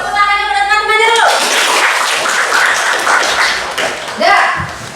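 Students in a classroom applaud their classmates with a dense burst of clapping that follows a teacher's spoken voice and fills most of the clip, with a few voices over it near the end.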